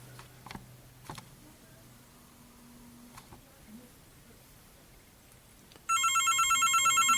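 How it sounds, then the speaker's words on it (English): A telephone rings with a steady, repeating electronic trill that starts near the end, loud and alone, after quieter bench noises while bullets are being sized and lubed. "Sorry for the phone ringing."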